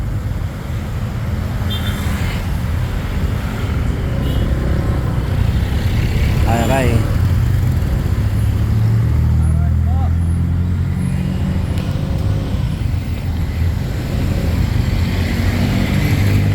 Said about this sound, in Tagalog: Ay, kaga-aga palang traffic na.